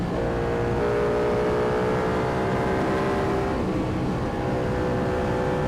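A Ducati Panigale V2 motorcycle engine runs at a steady idle, close and loud, a continuous throbbing drone with no revving.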